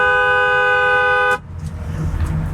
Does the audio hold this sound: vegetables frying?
no